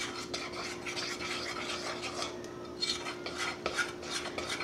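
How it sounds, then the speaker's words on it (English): Donut glaze being stirred until smooth in a bowl, a steady scraping and rubbing of a utensil against the sides that continues without pause for several seconds at close range, with no talking. "let's mix it together till it's nice and smooth"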